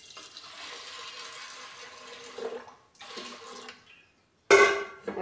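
Water poured into a pressure cooker holding dal produces a moderate running pour, a brief second pour after a short break, then silence and a sharp clattering splash at the end, close by and without talk.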